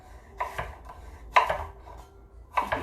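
A kitchen knife rocks through cucumber on a cutting board, making three separate crisp chopping knocks with quiet gaps between them.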